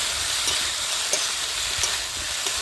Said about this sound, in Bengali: এই চেরা লঙ্কাগুলো এখন আমি দিয়ে দেবো ভালো করে নেড়ে চেড়ে দেবো